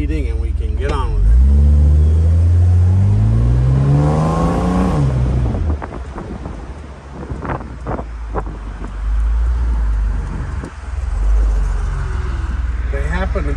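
A 1969 Mercedes-Benz 280 SL Roadster convertible out on the road, engine revving up through a rising gear pull then settling, with heavy wind buffeting from the passenger seat and someone talking over it.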